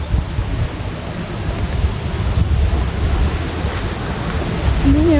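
Cold river water flowing through the Tordai-hasadék gorge in Romania, a steady low rushing wash with some wind buffeting, close and continuous, without speech.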